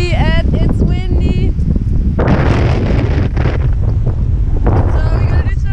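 Strong wind buffets the microphone on a beach before windsurfing, a loud continuous roar with gusty surges throughout, while a person talks over it.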